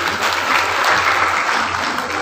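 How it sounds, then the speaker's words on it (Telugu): Dense, steady clapping from a crowd of women at a BJP Mahila Morcha gathering in Peddapalli, close and sustained for the whole couple of seconds. "చప్పట్లు కొట్టండి"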